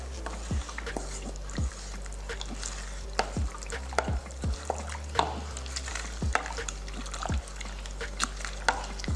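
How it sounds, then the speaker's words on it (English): Icing sugar is stirred into burfee mixture with repeated soft scraping strokes and light taps against the pot, fairly quiet and close, with a low steady hum behind. "then I'm going to add in my icing sugar. And stir in a little at a time."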